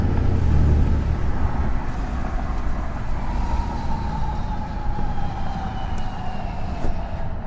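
A 2014-or-newer Ram 2500 with the Cummins 6.7 diesel engine has its engine brake on, giving a deep, continuous rumbling roar with a faint tonal drone, loud and steady throughout.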